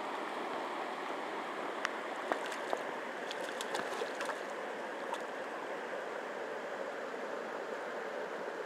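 Steady rush of a flowing mountain stream, Anthracite Creek, heard as an even wash of water with a few small splashes and clicks near the start.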